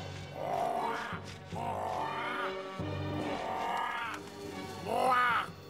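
A bird in a French-dubbed Beetleborgs Metallix episode gives a series of harsh, throaty caws and squawks in separate bursts, fairly close and loud, with a rising screech near the end.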